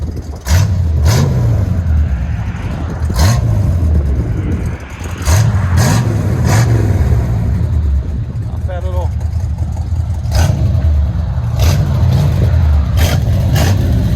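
A 1972 Chevy C10 pickup with a 350 V8, RV cam and Flowmaster Flow FX exhaust rumbles loudly up close with a deep idle and repeated short revs, while people talk over it.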